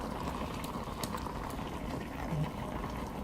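Pot roast with tomato paste and Worcestershire sauce cooks in a pot, giving a steady, close bubbling and sizzling that runs without pause and without voices.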